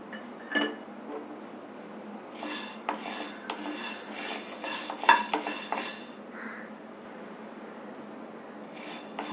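Green gram dry roasting in a metal pan, stirred continuously, gives a close scraping rattle of hard grains against metal with clinks of a spoon, steady with louder stretches and no voices.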